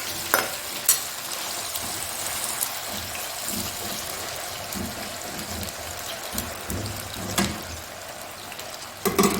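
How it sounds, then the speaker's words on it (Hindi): Potatoes sizzle steadily in hot oil, a continuous close hiss of frying with occasional louder pops and crackles throughout. "ऑयल हमारा गर्म हो गया, इसमें जाएंगे आलू।"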